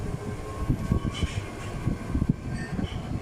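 Cleaned fan running at speed with no rattling, giving a steady rumbling whir with a fluctuating low hum and faint higher whine throughout.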